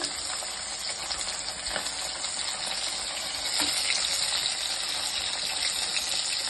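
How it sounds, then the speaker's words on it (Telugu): Chopped onions frying in hot oil for a chicken curry, a steady close sizzle and crackle that swells a little louder partway through, with no talk. "ఆయిల్ హీట్ అయిన తర్వాత మనం కట్ చేసి పెట్టుకున్న ఆనియన్స్,"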